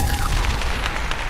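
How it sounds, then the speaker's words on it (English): A podcast soundboard explosion effect booms as a dense, steady roar that fills the short moment with a loud, rumbling blast. "I got the explosion."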